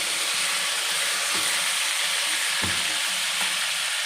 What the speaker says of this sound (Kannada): ಈ ಥರ ಬದನೆಕಾಯಿ ಎಲ್ಲ ಚೆನ್ನಾಗಿ ಫ್ರೈ ಆಗಬೇಕು ಇವಾಗ ಫ್ರೈ ಆಗಿದೆ